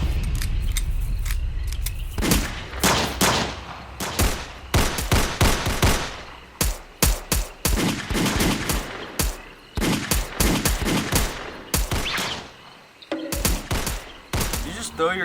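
Rapid volley of gunshots from several guns fired at once, loud and dense bursts overlapping in an indoor thriller scene, with shouting voices between and after the shots.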